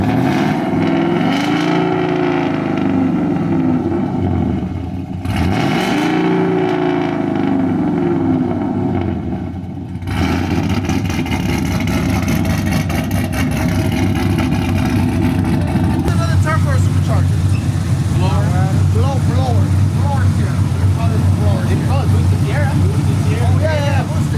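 A supercharged 2017 GMC Sierra pickup engine revs hard again and again, roaring and dropping back, then settles into a loud steady rumble; people talk faintly nearby.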